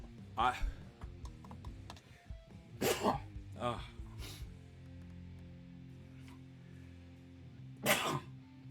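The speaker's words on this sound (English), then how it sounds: "I don't know why I'm sneezing." Several short, sharp bursts from a person sneezing indoors in a dusty room, one around the start, a pair in the middle and a final one near the end, with a steady low hum between and brief talk nearby.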